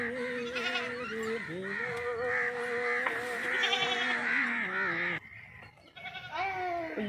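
Goats bleat repeatedly at a livestock market, loud and close, with wavering cries overlapping one another and voices talking beneath them.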